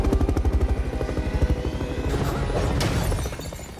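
A film helicopter's rotor thumps in rapid rhythmic pulses, loud and close, then blurs into a roaring whoosh with a crashing impact near the end.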